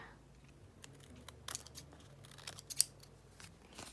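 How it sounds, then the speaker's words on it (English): Scissors snip off excess paper from a layered ephemera craft piece, a few short crisp cuts with light paper rustle, close and fairly quiet, no talking. "All right, now I'm gonna cut off this excess here."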